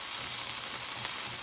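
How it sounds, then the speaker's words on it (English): Beef sears in a hot pan with a dense, steady sizzle and crackle throughout, close and moderately loud, with no talking. "I wanna try and sear it the best that you can."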